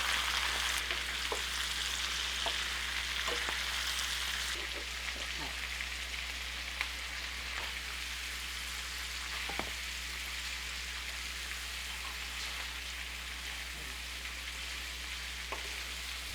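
Enoki mushrooms stir-fry with bok choy and smoked duck in a pan, giving a steady, moderately loud sizzle with occasional soft taps and scrapes from the utensil.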